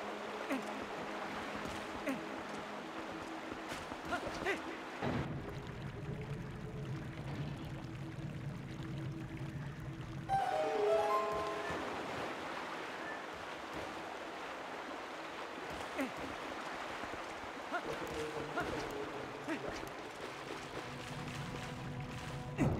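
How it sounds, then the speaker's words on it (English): Rushing, pouring water in the Lakebed Temple of the video game Zelda: Twilight Princess HD, a continuous stream with surging changes and in-game effects layered over it. "now we've got the water flowing"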